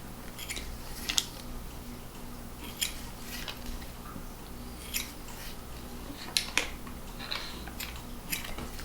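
Soft, irregular snipping and cutting clicks as pork skin is cut into small strips for cracklins, close and quiet over a steady low background hum.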